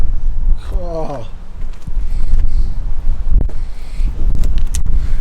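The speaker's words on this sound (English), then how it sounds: "Bit windy." Strong wind gusts buffet the microphone in open Cotswolds countryside, a steady low roar with rustling throughout, while a voice briefly speaks near the start.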